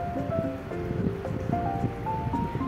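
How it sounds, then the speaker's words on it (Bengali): Peeled pointed gourds, slit down the middle, are washed by hand in water for a sweet dessert, giving steady sloshing and splashing over continuous rustling with faint tonal background sounds. "তো পটলগুলো ভালো করে ধুয়ে আমি তুলে নিচ্ছি।"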